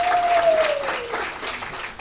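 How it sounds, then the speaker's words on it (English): An audience at a South African football association sponsorship launch gives a round of applause for the Banyana Banyana women's team, steady clapping that tapers slightly, with a brief tonal whine near the start. "can we give them a big round of applause?"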